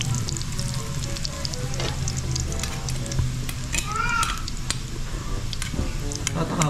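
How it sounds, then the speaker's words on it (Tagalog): Garlic fries in a pan with a steady, loud sizzle and occasional scraping and stirring, close up, with no voices over it. "Ang tagal mag-brown ng bawang na to."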